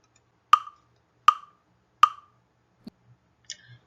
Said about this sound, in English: A metronome sounds like this.